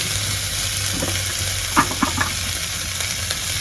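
Rice being stirred in a pot while cooking beef biryani, giving a steady sizzling hiss with a few brief scraping clinks of the spoon partway through, close and alone without talk.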